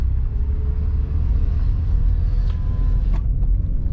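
A turbocharged Honda Civic EK with a D16 engine idles through a replacement exhaust box, a steady low rumble that stays loud and close for the whole stretch, with two brief faint higher sweeps near the end.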